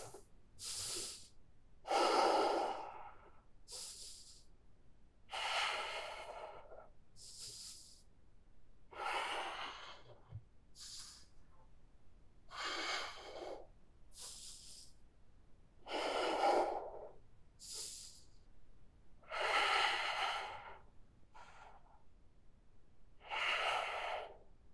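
Someone holding a handstand breathes heavily in slow, regular cycles, with about a dozen loud, close inhales and exhales separated by short quiet gaps.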